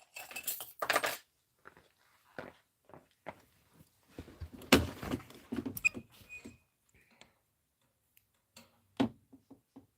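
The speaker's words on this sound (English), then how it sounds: "I'm going to grab my double curved scissors." Small double curved scissors with little handles are picked up at a sewing table, giving scattered light metallic clinks, taps and rattles close by, with quiet gaps between them.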